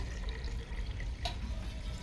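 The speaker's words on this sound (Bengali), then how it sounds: "আমি এখন এর ভিতরে পানি দিয়ে দিচ্ছি" Water is poured into rice for khichdi in a pressure cooker, giving a soft, steady trickling stream at low volume.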